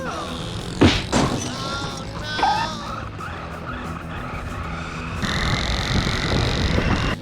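A remote-control car crashes into a dirt bike at an outdoor race, producing a sharp, loud thump, then tire skids and engine noise that build into a steady roar toward the end.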